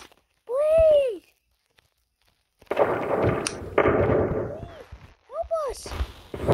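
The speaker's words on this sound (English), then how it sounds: "It's a bomb!" A bomb explodes in the video game Melon Playground: a sudden, loud, noisy blast breaks a short silence and rumbles for about a second, with wailing, siren-like cries before and after.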